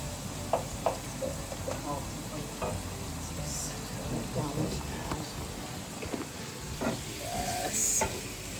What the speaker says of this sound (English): Just sizzling.